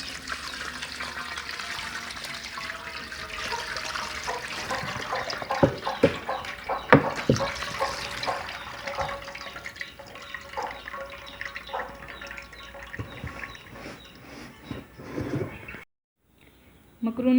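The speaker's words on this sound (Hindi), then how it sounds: "ऊपर से डालेंगे ठंडा पानी।" Cold water pours and splashes over boiled macaroni in a kitchen, a continuous wet rush with scattered drips and clinks, easing off before a brief silence near the end.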